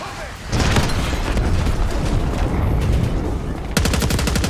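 A mortar strike in Call of Duty Black Ops 6 sets off a rumbling, sustained barrage of booms and blasts, close and loud, with a sharp burst of rapid fire near the end.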